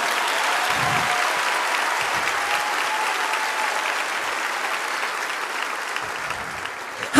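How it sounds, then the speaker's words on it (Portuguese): Audience at a church youth event applauding, a dense, sustained wash of many hands clapping with a few cheers, loud and even from start to finish. "Se é para Ele, você pode aplaudir."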